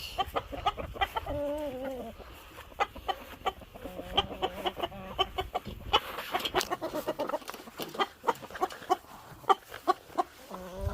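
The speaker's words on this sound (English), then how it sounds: "Chickens." Chickens on a homestead in Tonga cluck and squawk nearby in irregular bursts, with occasional louder calls rising above the flock's chatter.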